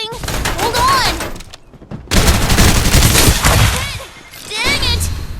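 Gunfire rattles through a Farlight 84 battle: dense bursts and volleys of shots with booms and thuds, dropping briefly to near quiet before loud fire resumes, mixed with game sound effects.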